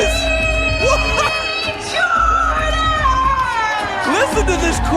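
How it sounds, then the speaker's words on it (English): A packed indoor wrestling crowd at a Southern Honor Wrestling cage match roars and cheers steadily, with loud whoops and excited shouts layered over a continuous close wash of noise. "Listen to this crowd!"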